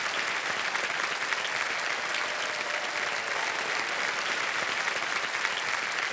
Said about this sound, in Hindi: बहुत जोरदार तालियां बजे इनके लिए।